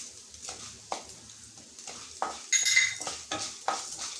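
Chana dal, coriander seeds and fenugreek seeds are roasted in a pan for tomato pitla. Soft, close frying hiss is broken by repeated spatula scrapes and clinks against the pan, with no talking.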